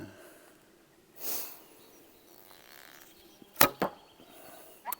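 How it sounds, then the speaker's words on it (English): Arrows from a Krym+ Monolith Tatar bow strike the target with two sharp close thuds back to back, a third impact following shortly after, over faint outdoor background and a brief whooshing rustle earlier. "how this bow kicks the arrows in the target"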